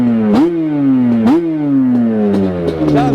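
A freshly built Yamaha Banshee ATV, a two-stroke quad, revs sharply twice and then settles into a slightly high, buzzing idle with a few smaller blips, close and loud throughout.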